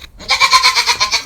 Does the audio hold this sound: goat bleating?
yes